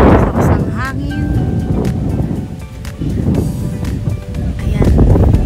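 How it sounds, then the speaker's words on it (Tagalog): Strong wind at a mountain resort buffets the microphone in loud, rumbling gusts, with people talking over it. "Lakas ng hangin."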